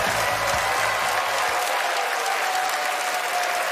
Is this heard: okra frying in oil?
no